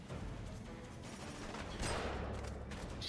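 Heavy gunfire in the video game Killzone 2 rattles as a dense, continuous fusillade of overlapping shots, with a louder burst partway through over a rumbling low bed.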